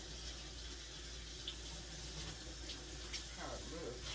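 A tap running into a kitchen sink while a dish is rinsed under it, a steady close hiss of water with a brief splash near the end and a voice faintly underneath.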